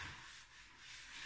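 Hand sanding on the body of a Suzuki Sidekick, a brief stretch of steady, faint, dry abrasive rubbing with gentle back-and-forth swells and no voices.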